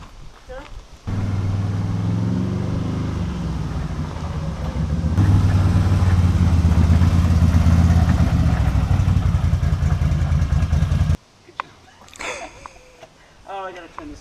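Motorcycle engine running after being unloaded from a trailer, a loud steady drone close by that grows heavier midway, then cuts off abruptly as people talk.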